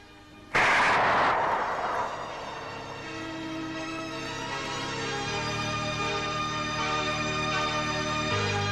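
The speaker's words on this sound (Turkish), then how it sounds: "Vur Kemal'i!" A loud single gunshot blast bursts out in a scene from a 1981 Turkish film, followed by sustained dramatic orchestral music with a held, droning texture underneath.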